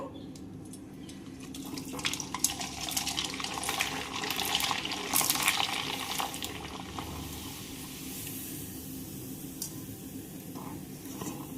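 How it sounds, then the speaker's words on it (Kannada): Lentil papad frying in hot oil makes a continuous, fairly quiet hiss and fizz with some brief bubbling surges, steady over several seconds and with no voices. "ಎಣ್ಣೆ ಕಾದೈತಿ. ಈಗ ಹಪ್ಪಳ ಹಾಕ್ತೇನೆ."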